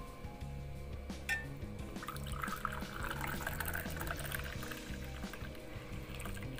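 An herbal immunity-booster drink pours through a strainer into a cup, giving a steady close liquid trickle and splash with a few drips and light clinks, without talk.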